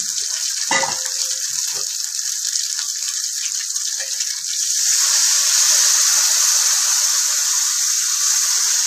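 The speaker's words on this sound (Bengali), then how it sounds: "এখানে একটু জল দিয়ে দিলাম" Water poured into spices and green chili paste in a hot pan for a hilsa dish raises a close, steady hissing sizzle that swells louder about halfway through.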